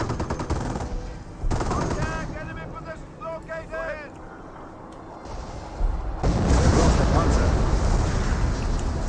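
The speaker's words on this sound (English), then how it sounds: "Some good hit there with the artillery" Artillery blasts and machine-gun fire from the World War II strategy game Company of Heroes rumble close and loud, with heavy continuous barrages swelling toward the end while someone talks over part of it.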